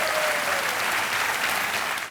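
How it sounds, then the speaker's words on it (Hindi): A studio audience on a TV quiz show claps for a contestant, a thick, even wash of applause that holds steady for two seconds before cutting off abruptly. "आइए तालियां बज जाएं जगबंधु जी के लिए"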